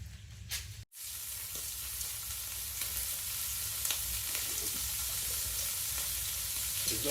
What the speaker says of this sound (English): And you can hear the bacon sizzling in the background.